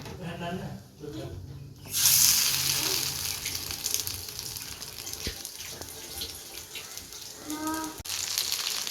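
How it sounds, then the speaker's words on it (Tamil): Fish for a masala fish fry dropped into hot oil in a pan, a loud sudden hissing sizzle that keeps going steadily, with some light clatter and a voice talking earlier on. "இப்போ எண்ணெய் நல்லா சூடாகிட்டு இப்போ நம்ம மீனை சேர்த்துக்கலாம்"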